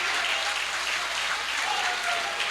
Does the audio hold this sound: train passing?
no